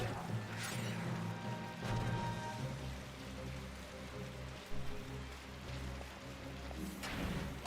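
Steady rainfall in the video game Final Fantasy XII hisses continuously over a low droning game soundtrack, with occasional splashy bursts and no voices.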